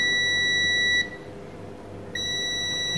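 Multimeter continuity test on an SS14 diode, a steady high electronic beep that stops for about a second then resumes, loud and close, no talk.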